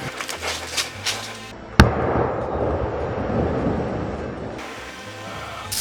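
Magnum shell kit firework set inside a carved Halloween pumpkin: a sharp close bang followed by a few seconds of crackling, hissing burn that fades out, with a fizzing fuse and rustling noise beforehand.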